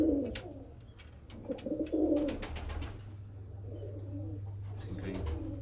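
A pigeon of Narayangarh bloodline coos in a loft, low repeated coos under scattered chirps and rustling, close by, with no speech.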